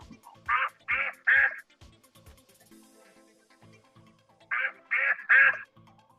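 A duck quacks in two quick bursts of three loud, nasal calls separated by a short pause, with faint background noise between them.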